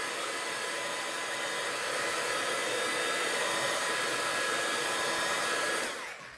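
Heat tool drying archival ink on an art journal page: a steady, loud, continuous blowing whoosh that holds for several seconds, then cuts off abruptly at the end.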